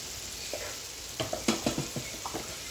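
Chili and coriander powder being stirred and fried in a pan for a black chickpea bhuna, a low sizzle overlaid by a quick run of spoon scrapes and taps against the pan.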